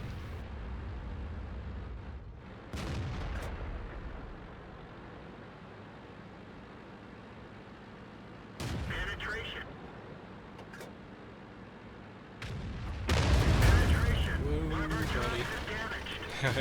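Tank cannon shots in World of Tanks on the Malinovka map, a couple of heavy booms with rumbling engine noise between them, loud and close.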